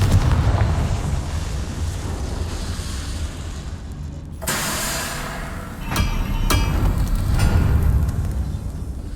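The Confringo fire spell from Hogwarts Legacy bursting into a loud, roaring explosion with a broad whoosh, followed by a couple of sharp cracks and a rumbling tail over steady game ambience.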